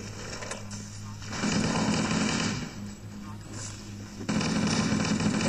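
Rapid gunfire from the Halo video game as ammunition drains, a dense stream of shots under game noise and a voice, growing louder in the last second.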